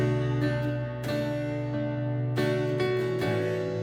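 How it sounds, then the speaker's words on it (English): Keyboard and acoustic guitar play together in a mix, both pitched parts voiced alike and strumming similar rhythms, sustained and steady with a brief dip near the start. "Acoustic and keys are occupying similar spaces."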